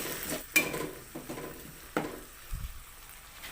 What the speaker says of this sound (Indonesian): Lalu aduk kembali.